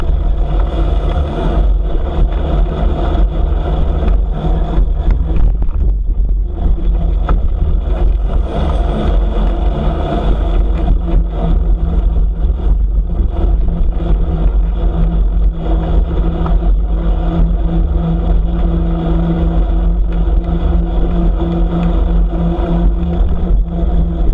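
Hot rod cars roll in at Pigeon Forge with a loud, continuous low engine rumble and rising revs. Traffic noise stays steady throughout and no one speaks.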